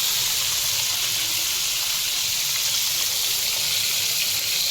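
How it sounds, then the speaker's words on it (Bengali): Fish fries in a pan with a loud, steady, hissing sizzle that continues without a break for the whole stretch. "আমার মাছ ভাজা হয়ে গেছে, একদম মুচমুচা করে ভেজে নিয়েছি"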